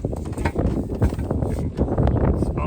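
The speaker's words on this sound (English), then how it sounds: "Pardon the wind, it's probably a little windy up here today." Wind gusting across a residential rooftop during a solar rail installation, a loud, steady buffeting rumble with irregular surges that fills the whole stretch, with no talk over it.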